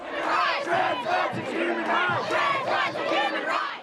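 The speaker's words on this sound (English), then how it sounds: "the roar of the opposing crowd taking over" A large protest crowd roars and chants loudly, many overlapping voices shouting together in rhythmic surges.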